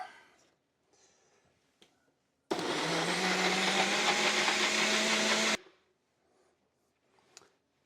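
A kitchen blender whizzes egg and cheese pancake batter in one loud, steady burst of about three seconds, standing alone between quiet stretches with a few faint clinks.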